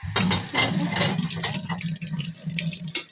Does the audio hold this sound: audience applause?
no